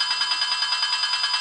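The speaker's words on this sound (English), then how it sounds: "what the Zephyr bell sounded like." An ESU LokSound DCC sound file reproduces the bell of the Pioneer Zephyr locomotive, a fast, steady, evenly pulsing metallic ringing heard alone and close.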